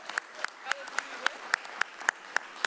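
A small audience at a city council meeting claps in a round of applause, with sparse, distinct claps landing in a fairly regular rhythm and a few voices underneath.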